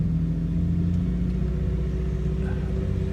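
A Chevrolet Impala idles with a steady low engine hum while creeping forward slowly, a close, even mid-range drone with no revving and no speech.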